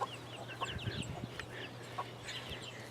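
Chickens cluck in a farm sanctuary coop, several soft, irregular clucks and short calls close by over a steady low hum, with no talking.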